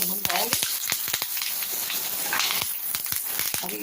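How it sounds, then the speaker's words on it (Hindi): Peanuts and curry leaves roast in ghee in a pan, giving a steady, close sizzle and crackle throughout with small pops, while a voice speaks over it. "हम इसमें ये करी पत्ते डाल देंगे जो इसी में भून जाएंगे।"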